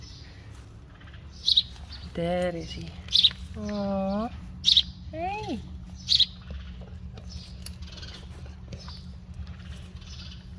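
Small bird chirping in short bright bursts, four brief repeated calls spaced across the clip, close by at a Friesian horse stable, with people talking and calling out between the chirps.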